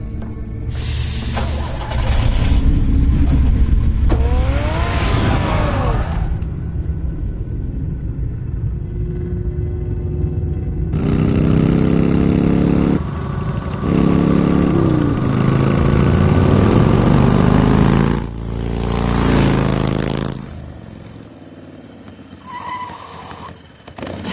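The Batmobile in Telltale's Batman game roars to life and drives off, a loud engine rumble rising in bursts with revving surges and tire skids, then fading near the end.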